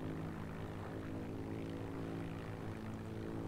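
Propeller engine of a tier 1 plane in a flight video game, a steady, dense droning hum that holds constant throughout with no talk over it.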